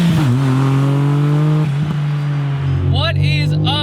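Engine of a modified, turbocharged 1991 Suzuki Cappuccino revving, a loud steady drone with a rising pitch sweep near the end, with a voice speaking over it.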